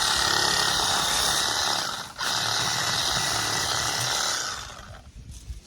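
A Diablo reciprocating saw with a carbide-tipped pruning blade cuts through a branch about an inch thick, a loud, steady buzzing whine close by that briefly dips midway and then cuts off near the end.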